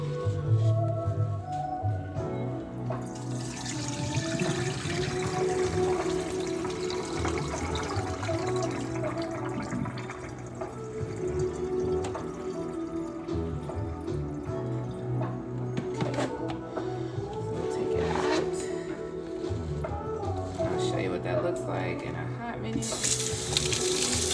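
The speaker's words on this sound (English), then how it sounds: "you're going to pour out your muck away from your fabric while holding it a little bit" Tie-dye liquid is poured out of a container away from the fabric, a steady watery trickle and splash that runs for most of the stretch under a constant background hum.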